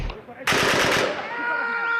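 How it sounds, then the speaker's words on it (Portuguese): A sudden burst of rapid distant gunfire in the Syrian war, a quick run of sharp cracks that blur into a rumbling, echoing roll. Whistling tones hang in the air afterward. "De repente, tiros à distância."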